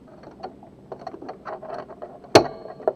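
A snap-on presser foot pops off a Pfaff sewing machine with one sharp, close click, following a few faint soft plastic handling taps.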